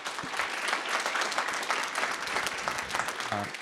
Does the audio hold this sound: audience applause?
yes